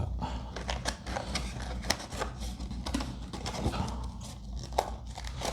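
Adrenalyn XL booster packs are torn and unwrapped in quick succession, giving sharp crinkling and rustling bursts of foil wrapper close by with brief pauses between, with no talk.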